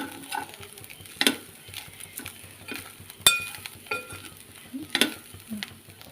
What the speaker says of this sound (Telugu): ఇలా అటు ఇటు ఒకసారి కలుపుకొని వేగాక కట్టేసి